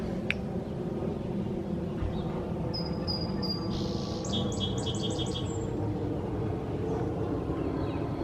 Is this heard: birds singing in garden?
yes